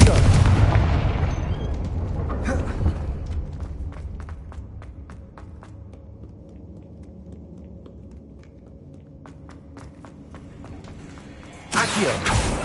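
A Confringo blasting spell fires in the video game Hogwarts Legacy, giving a loud booming burst at the start that decays into a rumble, with scattered clicks, then another sharp blast near the end.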